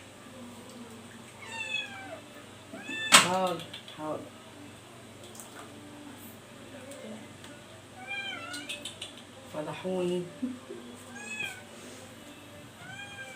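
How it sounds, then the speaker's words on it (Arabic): Several cats meowing in a home kitchen during cooking, repeated plaintive meows near and far, with someone talking over them. "القطط دوخوني بصراحة."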